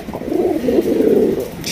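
Pigeons coo up close in a loud, rolling, low burble lasting under two seconds, with no voices over it.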